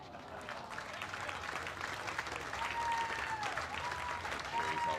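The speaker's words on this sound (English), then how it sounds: "Crowd appreciates the effort." A crowd at a tennis match in Sarasota applauds steadily for several seconds, a dense far-off clapping bed with a commentator talking over it.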